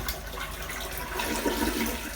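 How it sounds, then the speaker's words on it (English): Small flush of a toilet in a tiny Japanese apartment, a steady close rush of running water that swells slightly toward the end, with no talking. "So we'll do a small flush."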